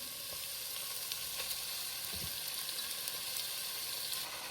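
Australian lamb curry sizzles in a pan as it is stirred, a steady close hiss of frying with faint scrapes of the spoon and no voices.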